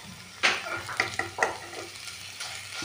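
Beef fries with potato and onion for beef bonda, a low sizzle punctuated by several close scraping stirs and spoon knocks against the pan.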